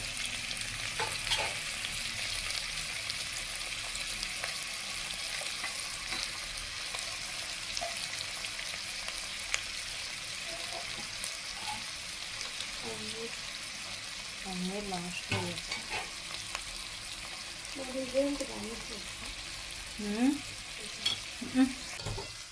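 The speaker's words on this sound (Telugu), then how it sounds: "ఇలా వెజిటేబుల్స్ మిల్ మేకర్ యాడ్ చేసిన తర్వాత ఒకసారి బాగా కలపండి" Vegetables and meal maker soy chunks stir-fried in a pan, with a steady broadband sizzle throughout and scraping, clattering stirring strokes that pick up near the end; no one speaks.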